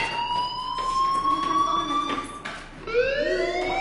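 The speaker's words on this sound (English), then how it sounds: "Hey, do you hear that fire alarm? That means you should be outside." A school fire alarm in the Life is Strange video game sounds as a loud electronic siren, repeating rising tonal wails that sweep upward in pitch, with a brief dip before another rise near the end.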